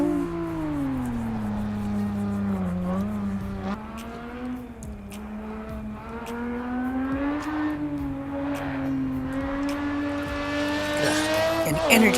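Race car engine in the racing game Assetto Corsa Evo at the Nürburgring, loud and continuous, rising and falling through gear changes with a few sharp shifts and a building rev toward the end.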